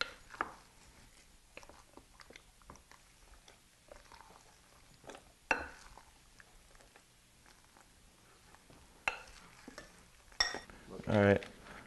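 Lumpia filling ingredients being mixed in a bowl, with soft intermittent clacks of a utensil against the bowl and moist squishing, quiet and close, ending in a louder scraping burst.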